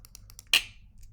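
A synthesized clap built from bandpass-filtered noise, played dry without effects: a single sharp burst with a quick decaying tail, preceded by a few faint ticks.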